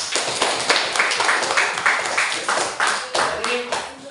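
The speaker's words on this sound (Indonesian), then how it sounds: "Oke, tepuk tangan dulu buat teman-teman." A classroom of students claps for classmates after a science lesson presentation, a lively burst of hand claps with uneven rhythm, close and fairly loud, with voices mixed in.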